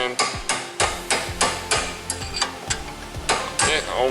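An extension or small screwdriver taps a tight-fitting part out of the front strut assembly on a 2007-2012 Hyundai Santa Fe: about ten sharp metallic strikes in an uneven rhythm, close and clear.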